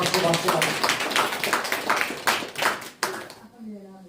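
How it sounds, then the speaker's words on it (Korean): A church congregation claps during a sermon, a group of hands striking in loose rhythmic bursts for several seconds before the clapping fades, with a voice briefly audible at the end. "여기서 박수 좀 쳐. 박수."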